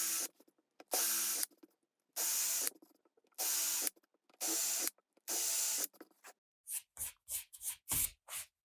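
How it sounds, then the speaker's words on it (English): A drill with a number 8 countersink bit cuts screw holes in a series of six short, loud bursts about a second apart, followed by quicker, choppier scraping strokes, close up with no talk. "Now I'm going to take a number 8 countersink bit and countersink these holes for the screws."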